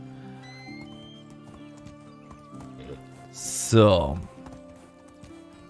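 Horse hooves and a brief whinny while riding through woodland in the medieval survival game Medieval Dynasty, a steady clip-clop under game ambience that swells around the neigh, with a voice talking briefly.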